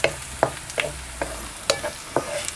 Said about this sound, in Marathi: आपल्याला कांदावर चांगलं असं परतून घ्यायचं आहे लसणाचं कच्चेपणा जवसपर्यंत आपल्याला चांगलं असं परतून घ्यायचं